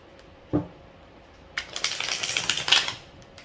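A deck of tarot cards riffled and shuffled for a reading, a single soft tap first, then a close, continuous papery flutter lasting about two seconds, with no voices.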